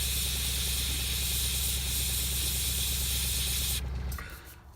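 An airbrush sprays paint onto an Ogryn miniature bust in a steady, close, loud hiss that holds for about four seconds, then cuts off and leaves a fading low hum.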